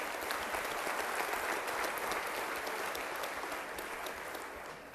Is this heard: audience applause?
yes